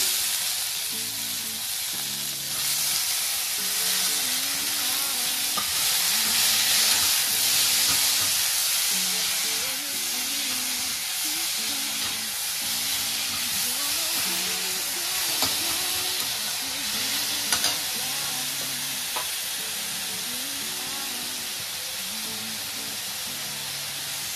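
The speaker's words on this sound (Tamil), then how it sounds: "இது கொஞ்சம் வதங்கட்டும்." Green chilies, curry leaves and tomato sauté in a hot pan for South Indian home cooking, giving a loud, steady sizzle and hiss that runs unbroken throughout, with no talking.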